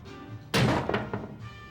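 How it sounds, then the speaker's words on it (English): In a Yakuza 0 pool game, the cue ball strikes the yellow ball into the purple for a combination shot: one sharp knock followed by two lighter clicks within about half a second, clean and close. "now we hit the yellow ball into the purple ball. That's a combination shot."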